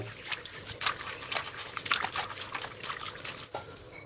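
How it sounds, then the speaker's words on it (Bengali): Fresh neem leaves are washed by hand in water, with soft trickling, dribbling and light sloshing splashes coming in small irregular bursts close by, with no voice over them. "এই পাতাগুলিকে বেশ ভালো করে পরিষ্কার করে ধুয়ে নেব"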